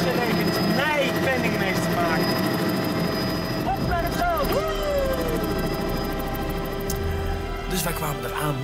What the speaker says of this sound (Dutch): Wij kwamen eraan met de helikopter op die bergtop.